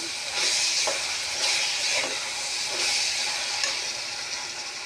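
One tablespoon of ginger garlic paste fries in a pan for mutton curry, giving a steady, close sizzling hiss that swells and eases in gentle surges, with no talking over it.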